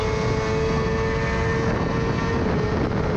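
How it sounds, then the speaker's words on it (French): A 2020 BMW S1000RR sport motorcycle at full throttle on the Mugello track, a loud, steady engine drone with a constant high whine holding at full power the whole time, with no talking. "Vraiment, le moteur de la BM, il est dingue."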